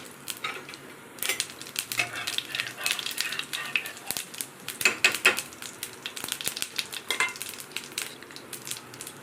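Dry red chillies and cumin crackle in white oil with a steady close sizzle, broken by sharp spitting pops and a few clinks of a utensil.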